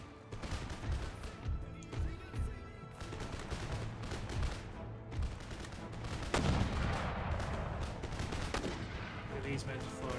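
Musket volleys from Empire Total War on the Venice campaign: dense crackling gunfire and scattered shots rolling continuously, moderately loud, with battle noise and no talking.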